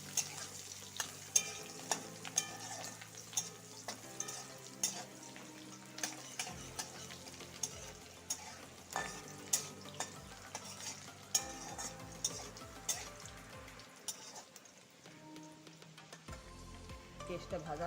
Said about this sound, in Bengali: ছোটো সাইজের একটা পেঁয়াজ দিয়ে একটু ভালো করে ভেজে নিব পেঁয়াজটা।